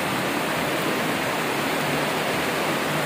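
Spring water issuing from underground at the top of Nishat Garden in Srinagar rushes in a loud, unbroken hiss, close and steady.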